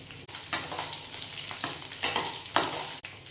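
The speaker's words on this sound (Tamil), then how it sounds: "ஒரு கைப்பிடி தேங்காய் வந்து நான் சேர்த்துக்கிறேன். இதே நல்லா வதக்கிக்கலாம்." Grated coconut and small shallots sizzle steadily in a hot pan for mint chutney, with a spatula scraping and stirring every second or so, close and clear, with no voices.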